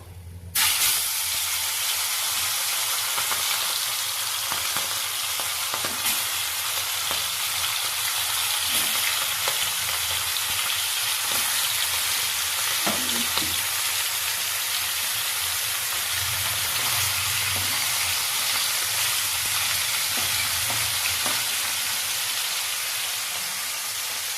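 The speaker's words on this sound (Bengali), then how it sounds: "এবার মাথাগুলো ভালো করে ভেজে নেব" Pomfret fish heads fry in a pan with a loud, constant sizzle and hiss, punctuated by faint occasional scrapes and pops, close and uninterrupted for the whole stretch.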